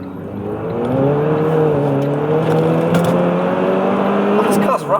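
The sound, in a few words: Renault Twingo 1.2T GT car engine accelerating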